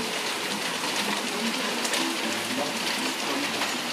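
Hail pours down in Orillia in a dense, continuous hiss of pellets striking surfaces, loud and steady throughout without a break.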